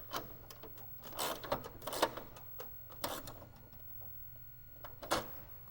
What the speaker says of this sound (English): Gonna get this nut on the back of it. I like my little red ratchet wrench from Harbor Freight.